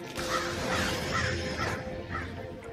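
A flock of crows caws repeatedly in a scene from The Umbrella Academy, harsh calls coming in a loose rhythm under a dense, noisy background.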